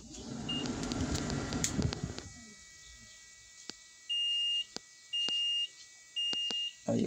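Dashboard of an XCMG XC870BR backhoe loader gives three evenly spaced electronic beeps after the ignition key is turned, following a burst of rustling handling noise and a few sharp clicks, each tone steady and clear.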